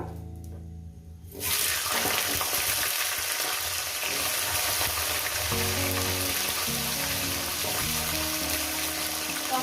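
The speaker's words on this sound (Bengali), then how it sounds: "পাঁচফোড়ন দিয়ে কয়েক সেকেন্ড ভেজে নেব" Panch phoron (Bengali five-spice) dropped into hot oil with bay leaf, bursting into a loud, continuous close sizzle with faint stirring scrapes in a home kitchen.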